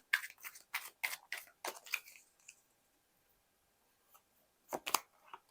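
A tarot card is drawn from the deck, giving a run of crisp papery rustles and snaps over about two seconds, a pause, then another brief burst of card handling nearby.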